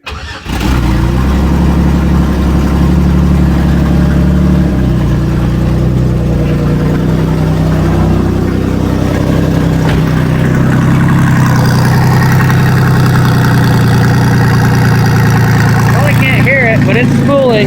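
A turbocharged Isuzu 2.8 engine starts and runs loudly and close, with a rising rev in the middle and a spooling whine toward the end, and a person talks over it.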